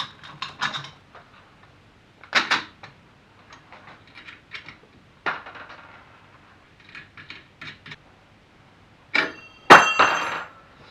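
Hammering aluminum sheet metal during panel beating, with sharp metallic taps in scattered clusters and pauses, close and clear in a quiet workshop, ending in a louder ringing strike.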